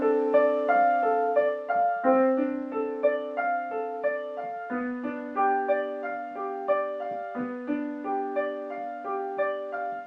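Solo piano playing measures 3 to 6 of Bach's C Major Prelude, steady rippling arpeggios of broken chords, close and clear with notes ringing over one another and no voices.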